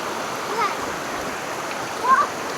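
A waterfall on Koh Chang island in the rainy season, swollen with heavy flow, gives a steady broadband rushing wash, with two brief splashy swells standing out over the continuous roar.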